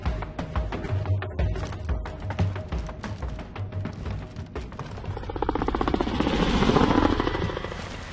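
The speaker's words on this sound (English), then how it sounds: "Another heli coming in low." Helicopter flying low in the war shooter Homefront, a loud pulsing rotor thump that builds and swells as it nears, dense rhythmic chopping at close range.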